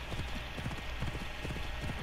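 Horse hooves clip-clop steadily at a trotting rhythm while riding across the open map in Assassin's Creed Odyssey, close and even over a faint game backdrop.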